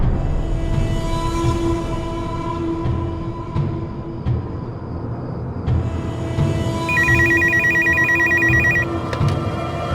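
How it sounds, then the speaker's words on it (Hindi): A telephone rings with a repeating electronic trill, sounding over steady background hum and ambient noise, loud and continuous for several seconds. "तू बार बार फोन करेगा तो अर्चना आ जाएगी क्या फोन पे?"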